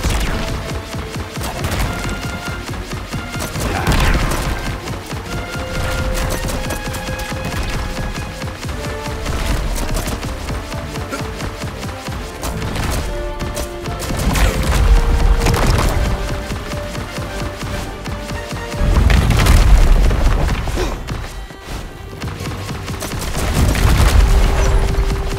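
Enemy gunfire and explosions in the run-and-gun game Contra: Operation Galuga, a dense, continuous barrage of shots and booms layered over game music, with heavier blasts near the end.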